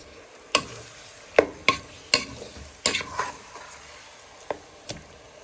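Beef brisket pieces are stirred around a frying pan, with a handful of sharp, uneven scrapes and clacks heard close over a faint sizzle.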